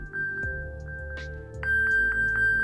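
An Apple iPhone pings after being located with Find My through Siri, giving a repeating series of short bright electronic tones over a steady hum, nearby and moderately loud.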